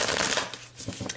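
Animal rune cards are shuffled by hand in a quiet room, giving about a second of dense papery riffling that eases off and then picks up again in short bursts, close and fairly soft.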